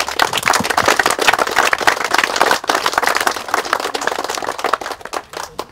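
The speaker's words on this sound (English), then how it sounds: "join me in giving them a round of applause" A crowd at a park opening gives a sustained round of applause, dense overlapping clapping that stays loud and even before thinning out near the end.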